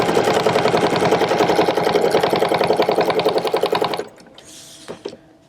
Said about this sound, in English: drop the needle onto my line up my template, and I'm going to put in 6